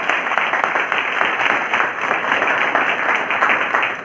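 An audience at a company product presentation applauds, a loud, dense and continuous wash of clapping close by that holds steady throughout.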